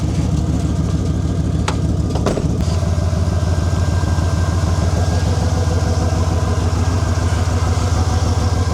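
Big block V8 in a squarebody truck idling with a steady, rumbling low-end exhaust drone throughout, carrying a slight miss, with a few brief sharp knocks near the start.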